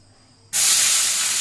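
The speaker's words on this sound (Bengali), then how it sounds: "তেল গরম হয়ে গেছে, এতে এবার দিয়ে দেব পেঁয়াজ কুচি" Chopped onions hit hot white oil in a kadai, bursting after a quiet moment into a loud, bright sizzle that keeps hissing strongly.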